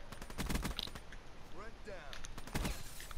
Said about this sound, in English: I just got shotgunned